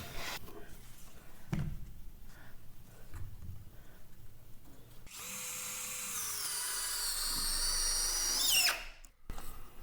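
A power drill drives Torx head screws into wooden blocks for a mountain cabin loft floor joist: a few faint clicks and handling knocks, then one sustained high whirring run of several seconds that cuts off abruptly, close and without speech.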